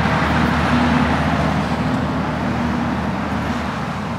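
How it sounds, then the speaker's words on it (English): A big truck passing on a road nearby, a loud continuous low engine and tyre rumble that holds steady and eases slightly toward the end. "It's a big truck."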